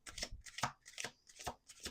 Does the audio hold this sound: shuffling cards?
yes